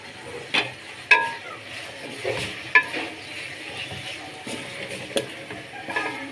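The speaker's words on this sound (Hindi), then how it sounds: "और अच्छे तरीके से आपने मिक्स करना है, हिलाना है।" Potatoes with green chillies, mint and coriander stirred in a pan over low flame, giving a soft sizzle with several sharp scraping knocks of the spoon against the pan, close and without talk.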